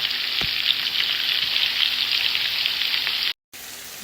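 Sliced bitter gourds fry in a pan, browning, with a dense continuous sizzle and a brief thud near the start. It drops out for a moment near the end, then the frying resumes, with no talk.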